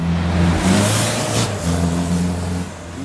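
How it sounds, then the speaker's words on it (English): New electric buses at the Bridgetown bus terminal in Barbados give off a loud, steady whirring drone with shifting tonal whine, rising and falling as a bus moves nearby. "These are the new electric buses that came in August 2020."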